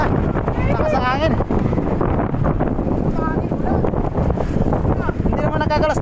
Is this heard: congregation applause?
no